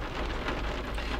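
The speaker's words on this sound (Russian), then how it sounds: "Надеюсь, что дождь будет недолго" Rain falling steadily, a dense, even hiss of drops on surfaces, close and continuous, with no voices over it.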